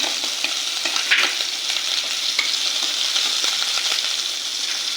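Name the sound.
green chilli being fried with vegetables in a pan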